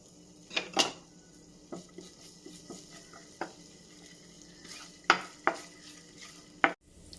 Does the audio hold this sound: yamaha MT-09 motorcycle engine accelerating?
no